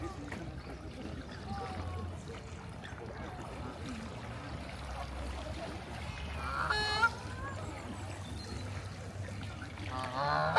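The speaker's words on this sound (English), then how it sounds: "I saw some black swans over there." Black swans call near the water of The Serpentine in Hyde Park, a brief honking burst around midway and another near the end, set against steady outdoor park ambience.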